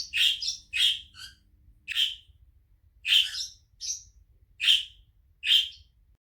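Pet birds in an indoor bird room chirp in short, bright, high tweets, about eight distinct calls spaced irregularly over a quiet background, with no talking.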